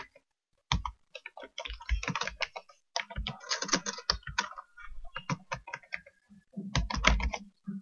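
Typing on a computer keyboard while entering an email address, with bursts of quick, close key clicks separated by short pauses and no voices.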